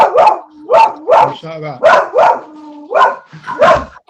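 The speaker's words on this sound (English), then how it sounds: "I've got 3 dogs in here, and every time someone comes through the door, this one just goes mental." A dog indoors, one of three kept in a room, barks repeatedly in sharp bursts at someone coming through the door, loud and close, with a person speaking briefly between the barks.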